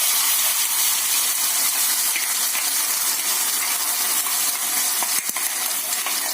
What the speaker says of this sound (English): Keep frying the paste into 10 minutes on the low flame.